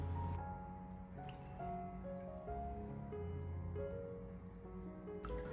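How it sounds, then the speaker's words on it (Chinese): Raw chicken gizzards swished and rubbed by hand in a basin of water, giving soft wet drips and squishy splashes that patter irregularly throughout, fairly quiet and close. "然后再下手把鸡胗给它清洗一下，把鸡胗上面的一些鸡油去掉不要"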